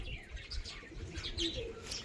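Several pigeons coo softly nearby on a horse farm, with low, soft murmuring calls and scattered chirps throughout.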